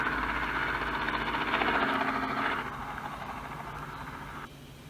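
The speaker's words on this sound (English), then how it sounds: "here's what the dual front firing speakers sound like" Audio played through the dual front-firing speakers of a Red Magic 3 gaming phone: a loud, steady engine-like roar that drops in level about halfway through and again near the end.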